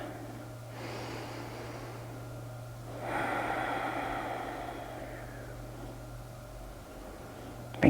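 Slow deep breaths during a short yoga session, a long soft inhale-exhale followed by a stronger breath, close and alone over a low steady hum.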